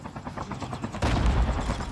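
Sniper gunfire in a battle royale video game, a dense burst of loud shots and explosive booms that swells sharply halfway through amid constant game noise and rumble.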